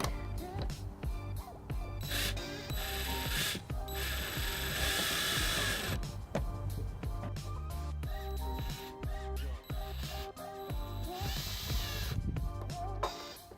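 Ratchet tightening the tail light bolts on a 2002 Pontiac Aztek, heard as bursts of quick close clicking that repeat with brief pauses over a faint hum, no one speaking.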